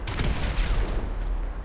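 Rapid gunfire in a video game played against thirty soldiers, a dense burst of booming shots in quick succession, loud and close, filling the whole short moment.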